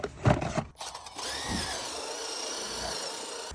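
A short clatter of handling noises, then a power drill fitted with a scrub brush whirs steadily for a few seconds while cleaning a Jeep WJ interior, close by and fairly loud.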